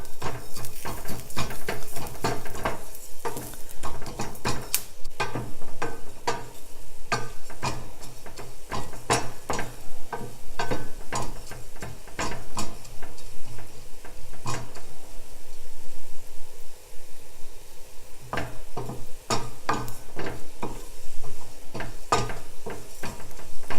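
Coriander seeds dry roasting in a pan, stirred steadily with a utensil, giving a continuous stream of close, rapid clinks, scrapes and rattles against the metal, with no talking.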